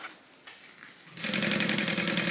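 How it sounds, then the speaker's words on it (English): A sewing machine top-stitches along vinyl on a Soraya divider bag, starting after a quiet moment and then running in a steady, close, rapid mechanical hum. "I like to top stitch along the top of the vinyl."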